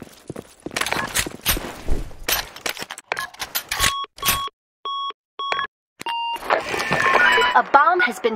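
Game sound of a planted bomb beeping, a series of short, evenly spaced electronic tones following a stretch of voices, with a burst of louder noise after the beeps.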